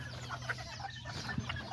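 Chickens and roosters, including small Azteca birds, clucking softly as they roam outdoors, faint scattered clucks over low background noise with no talking.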